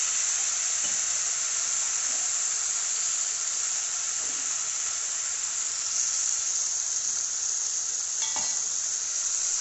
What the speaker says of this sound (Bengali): দেখো আমি তেল গরম বসিয়ে দিয়েছি, তেলটা গরম হয়ে গেছে, এবার সেই মেখে রাখা ইলিশ মাছটা আমি ওতে দিয়ে দেব।